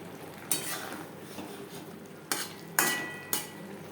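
A spoon stirs chopped coriander into a tangra fish curry with eggplant in a pan. There are a few sharp metallic scrapes and clanks against the pot over a soft background hiss.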